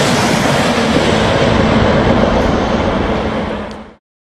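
A high-speed maglev train, the MLX-01, rushes past with a loud, steady roaring whoosh that holds nearly constant for about four seconds, then cuts off abruptly into silence.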